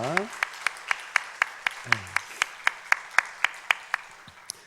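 A church congregation at a Holy Week special dawn prayer service claps in steady unison, sharp evenly spaced beats continuing throughout after a brief voice at the start.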